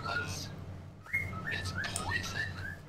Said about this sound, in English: Listen to that adorable bird go.